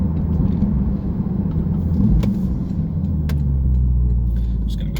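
A Porsche Turbo S accelerating hard under launch control, heard from inside the cabin as a loud, deep, steady engine rumble that holds for the whole stretch without pause.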